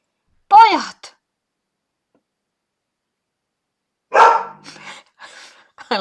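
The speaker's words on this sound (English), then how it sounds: "it's barking. Lot of barking." A dog barks in two separate bursts, a sharp close bark early on and a longer run of barking a few seconds later, with silence in between.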